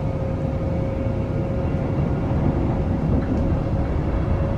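Passenger train on the main north line in Queensland, a steady rumbling interior hum with a faint constant whine, continuous and even throughout.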